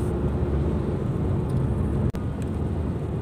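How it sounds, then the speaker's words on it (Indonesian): Engine noise of a 2023 Daihatsu Terios heard from inside the cabin while driving, a steady low rumble and road roar with one sharp click partway through. "Jadi kedengeran loh ya, suara mesinnya masuk kabin ya."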